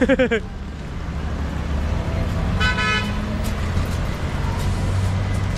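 A vehicle horn toots sharply at the start, then a car engine idles and rumbles nearby with traffic noise and a brief second honk.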